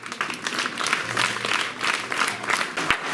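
A school event audience breaks into vigorous applause, a thick, continuous patter of many hands clapping at close range.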